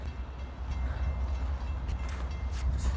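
A CP (Canadian Pacific) freight train rolls past at Lake Avenue in Blasdell, New York, a steady heavy low rumble with faint rail clatter throughout, close and continuous without any voices.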